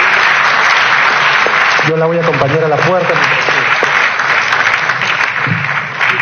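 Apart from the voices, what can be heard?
audience applause for the departing minister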